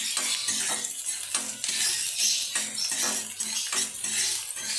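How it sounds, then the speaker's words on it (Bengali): Chopped green chili, beans and carrot being lightly fried in a pan for Maggi noodles give a soft, constant sizzling hiss, broken by repeated scrapes and clinks of a utensil stirring against the pan. "আমি হালকা করে ভেজে নেব।"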